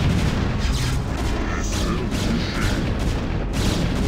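Cannon fire from the real-time strategy game StarCraft: a dense, continuous barrage of booming blasts overlapping one another, loud and sustained with no pauses, with no talk.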